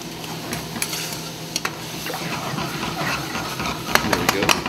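Spoon stirring Coco Lopez and lemon juice in a saucepan: soft scraping and swirling with light clinks and sporadic taps, close and moderately quiet, with a faint steady hum underneath.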